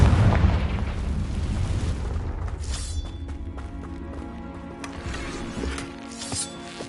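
Confringo fire spell explosions in Hogwarts Legacy, a heavy rumbling boom up front fading into crackling debris and smaller bursts, loud and close, with game sounds over a steady low roar.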